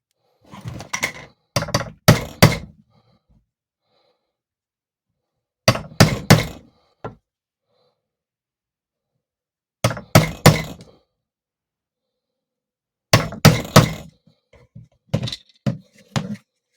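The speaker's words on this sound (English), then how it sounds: "And then use a chisel." A chisel is hammered through leather for a handmade flashlight holder, giving sharp, close thunking strikes in tight clusters of three or four, each cluster separated by a few seconds of silence.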